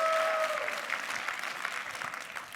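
Conference session audience clapping steadily at a Microsoft identity security talk, a broad even patter of many hands sustained throughout, with a brief tonal whistle-like ring at the very start.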